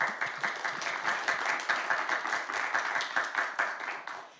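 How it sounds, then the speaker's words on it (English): Conference audience applauding at the close of a session on memory institutions, a steady wash of many hands clapping throughout, fairly close and continuous with no talk over it. "Please applause."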